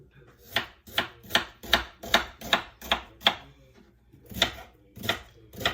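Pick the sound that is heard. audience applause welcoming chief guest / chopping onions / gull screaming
chopping onions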